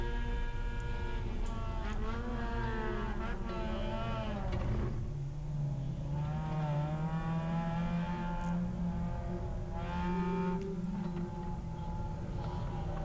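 Onboard a race car during a late-braking move, the engine roars and its pitch rises and falls through gear changes and deceleration, loud and continuous, with tire noise underneath.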